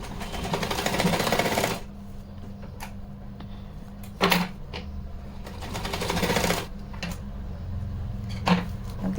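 A sewing machine runs in steady bursts while stitching a double-folded waistband onto a small festive outfit for a Laddu Gopal idol, with brief pauses and light clicks between runs.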